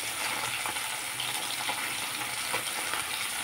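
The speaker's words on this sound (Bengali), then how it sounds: "উল্টাপাল্টা করে ভেজে নেব।" Fish fry in a pan with a steady, dense, close sizzle that stays even and loud throughout, no voices over it.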